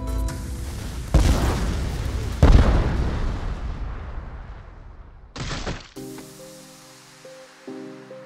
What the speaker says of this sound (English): The soldier bombing in, and then Dingo just connecting pipes like a plumber